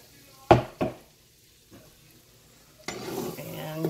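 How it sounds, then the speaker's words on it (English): Two sharp utensil clanks against a pan, a pause, then beaten eggs hit a hot pan greased with bacon fat and break into a steady sizzling hiss. "we're going to pour the eggs on."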